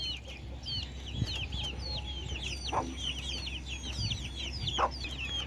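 A hen and her chicks: a constant stream of thin, high peeping from the chicks, broken by a few low clucks from the hen, all over a steady background hum.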